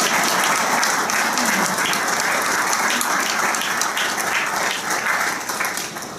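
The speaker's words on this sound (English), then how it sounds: "if we could also give a round of applause to the people up here sweating like crazy, our explorers who are trying to get this all together" Loud, dense applause fills a hall at a police awards ceremony for the explorers, many hands clapping steadily before tapering slightly at the end.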